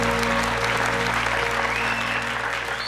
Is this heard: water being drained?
no